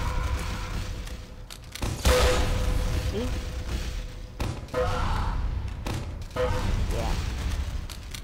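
Stickybomb explosions boom in Team Fortress 2, several loud thumping blasts spaced a second or two apart amid game noise, with someone talking briefly.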